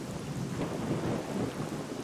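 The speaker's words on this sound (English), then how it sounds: "Just walking around in the rain." Steady rain with low thunder rumble fills the outdoor ambience of the video game S.T.A.L.K.E.R.: Call of Pripyat, a dense continuous wash heard alone without voices.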